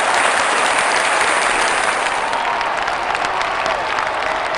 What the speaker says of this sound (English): we all start clapping and you're still playing